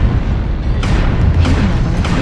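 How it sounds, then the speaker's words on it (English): A missile strike explodes in MechWarrior Online, heavy low booms and bursts over a constant loud rumble of mech combat, with several distinct impacts toward the end. "Warning, incoming missile."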